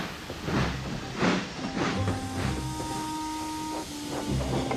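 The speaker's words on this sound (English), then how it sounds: "with a low toot, Thomas chuffed sadly back to Tidmouth" Thomas the cartoon tank engine gives a low toot and chuffs away, with rhythmic puffs of steam and a steady hiss under a short sustained whistle tone.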